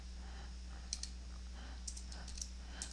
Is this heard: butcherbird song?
no